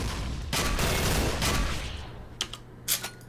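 Rapid automatic gunfire in the online shooter Combat Arms Reloaded rattles in a dense, continuous burst, then thins to a few scattered shots.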